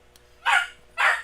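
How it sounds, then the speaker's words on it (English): A dog indoors gives two sharp, loud barks about half a second apart, close by with no talking over them. "Excuse the dog for a minute."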